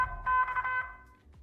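Electronic weather alert notification tones sound during a severe weather outbreak with hurricane-force gusts, as a short cluster of bright, clustered beeps lasting about a second before fading.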